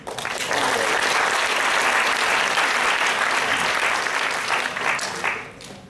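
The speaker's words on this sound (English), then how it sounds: "Again, round of applause." Enthusiastic clapping from a conference audience fills several seconds, loud and sustained, then tapers off at the end.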